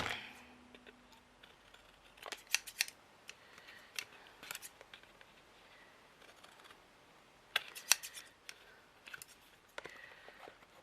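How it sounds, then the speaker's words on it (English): Scissors snip away the excess edges of a handmade steampunk paper tag, making a few quiet clusters of crisp cuts and light paper handling in a still room, with no voices. "then you just trim off the bits you don't want"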